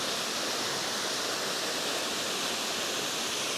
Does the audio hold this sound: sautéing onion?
no